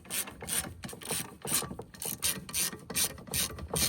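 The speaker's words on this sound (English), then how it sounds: "Now just grab you a 13 mil and go ahead and tighten them down." A 13 mm ratchet wrench tightens bolts on a Boost Auto step mount bracket, giving a close, steady run of rapid clicking ratchet strokes in regular bursts, with no voices.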